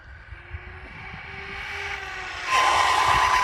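A Team Corally Kagama 4S RC car runs a full-throttle pass, its high electric motor whine rising steadily in pitch and loudness before surging louder near the end, heard outdoors with no talking.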